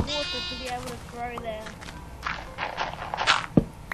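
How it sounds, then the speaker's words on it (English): Several high, wavering Minecraft sheep bleats come first, followed by footsteps, rustling and a soft thunk; no one is speaking. "Oh, such a cute little baby sheep."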